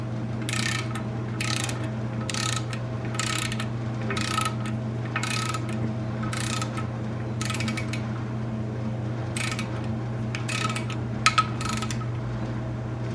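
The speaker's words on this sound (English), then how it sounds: "we're gonna have to torque that bolt down" A torque wrench ratchets in repeated bursts of rapid clicks while tightening an oil pan bolt on an LS engine build, about a dozen even strokes over a steady low mechanical hum.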